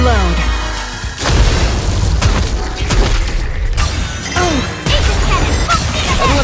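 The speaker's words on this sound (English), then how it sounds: "Everyone's firing all at once." Massed gunfire in the game Goddess of Victory: Nikke, with several weapons firing at once in a dense, loud barrage of booms and crashes while voices chatter over and between the shots.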